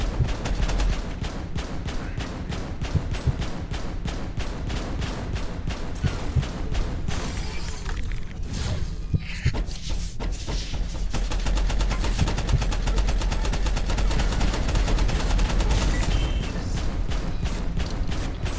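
Automated turrets in Abiotic Factor fire in rapid, sustained machine-gun bursts, a loud dense rattling stream of shots with mechanical clatter, briefly thinning midway before resuming at full intensity.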